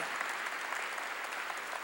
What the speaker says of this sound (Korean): 박수로 하나님께 영광드려요